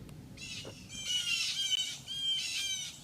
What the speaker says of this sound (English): So right now the birds in this tree are going nuts. There's blue jays, there's cardinals,